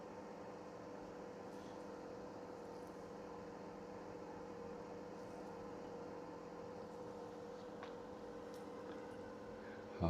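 A homemade soldering fume extractor fan runs with a steady, droning whir that stays constant throughout, with no talking.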